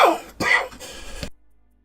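A person coughs and clears their throat in three quick, close, harsh bursts, followed by sudden silence.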